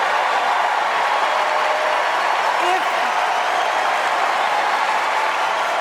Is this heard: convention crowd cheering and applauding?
yes